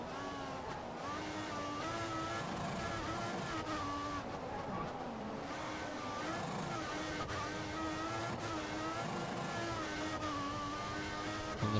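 Manor Formula 1 car engine in the racing game F1 2016, a steady high-revving drone with shifting pitch that rises and falls through a right-hand corner, continuous and close throughout.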